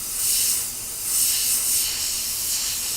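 Airbrush spraying green paint onto a She-Hulk bust, a steady close hiss with gentle swells in strength as the trigger is eased on and off.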